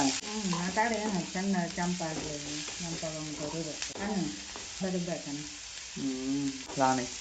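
Finely chopped green chilies sizzle and fry in a pan while being stirred, a steady crackle heard under a voice talking throughout.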